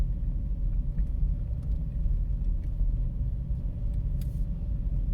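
A car rolls slowly along a quiet road at about 10 miles an hour, with a steady low engine and road rumble throughout and no other traffic.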